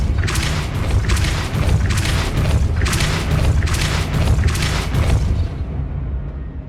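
A Depulso force spell cast in the Hogwarts Legacy video game, a loud, dense run of rapid booming pulses and whooshing blasts for several seconds before cutting off abruptly.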